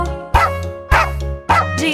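Three evenly spaced, loud, sung-like dog barks punctuate a children's nursery rhyme about a farmer's dog, each a short bright yelp over a steady musical backing.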